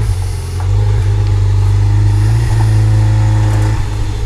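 Car engine running close by as the vehicle rolls slowly into a workshop, a loud, steady low rumble with slight variations in revs.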